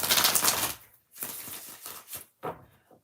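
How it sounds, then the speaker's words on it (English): Tarot card deck being shuffled close up, a dense riffling flutter at first and then a few shorter papery bursts of cards slapping and sliding, separated by brief pauses. "I know, I need to shut up and shuffle."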